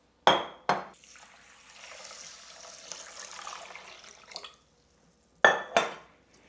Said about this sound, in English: one of the most important things is washing the rice